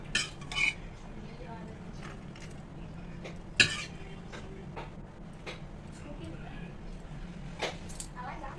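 Cooked chickpeas are scooped from a pot onto a plate for chana chaat, with scattered clinks and scrapes of a spoon against metal and one sharper knock, under faint background talk.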